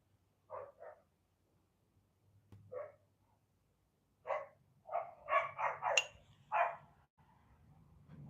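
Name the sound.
dogs barking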